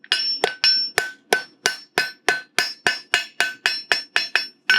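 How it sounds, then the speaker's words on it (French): A farrier's hammer strikes horseshoe metal in a quick, even series of about fifteen sharp, ringing blows, each with a short metallic tail, loud and close with no voices. "Et on vient avec la boule du marteau basculer la matière."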